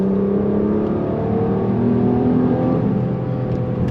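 A Mercedes-AMG GLC43's 3.0-litre V6, 362 horsepower, revs steadily and loudly without the exhaust package, a continuous deep mechanical drone with rising harmonics, close by with no talking.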